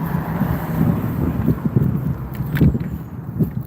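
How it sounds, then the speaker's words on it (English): Wind blowing outdoors on a cold night in Austin, a low rumbling buffet across the microphone with a few faint knocks and rustles, steady and moderately loud, with no talking. "Can y'all hear the wind?"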